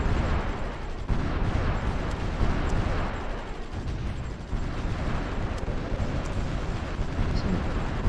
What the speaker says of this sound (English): So now they've moved all the capital ships down here. And still some are bombarding Rome.